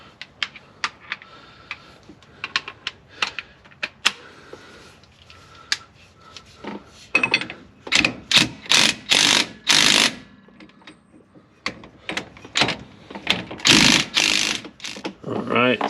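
Ratchet tightening a nut to remove in-and-out bearing play on a Jeep Gladiator, first as sparse light clicks, then fast dense bursts of clicking, close and fairly loud with small pauses between strokes.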